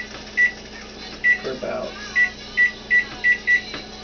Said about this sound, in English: I'm using the microwave timer